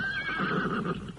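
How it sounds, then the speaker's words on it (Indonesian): Horses neigh in a brief, loud whinny that rises and wavers for about a second, close by and with no voices over it. "Itu kuda-kuda mereka."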